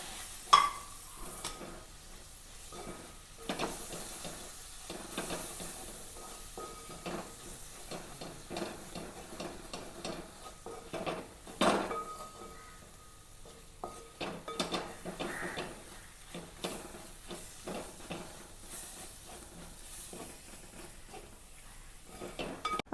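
Roasted spice powder and chopped tomato frying in a pan, with a soft continuous sizzle broken by repeated scraping and clinking of a spoon stirring against the metal, close and without talk.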